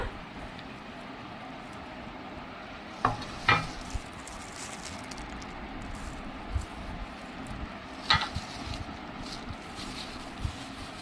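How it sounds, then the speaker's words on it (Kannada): Powdered curry leaf, coconut and onion being stirred together for a homemade hair mask, a steady soft scraping and rustling with a few sharp clicks of the spoon against the bowl, close by with no talking. "ಇದು ಎಲ್ಲ ಮಿಕ್ಸ್ ಮಾಡ್ತಾ ಇದ್ದೀನಿ ಈಗ."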